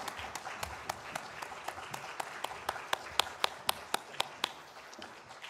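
A church congregation claps during a Sunday worship service, with sharp, evenly spaced claps in a steady rhythm that grow slightly louder toward the end, heard in a reverberant hall.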